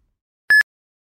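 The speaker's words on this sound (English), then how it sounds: "Each single bleep signals the end of a shuttle and will sound like this." A single short electronic bleep marking the end of a lap in a 10 m shuttle walking test sounds once, loud and clean against silence, lasting a fraction of a second.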